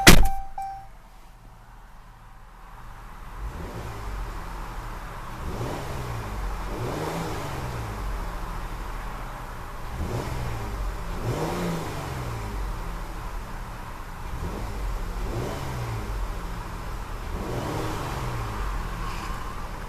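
A 2014 Jeep Cherokee Limited's 3.2-liter Pentastar V6 idles, then gets several quick revs: a sharp click at the start, then repeated rises and falls in engine pitch, loud and close with no talk.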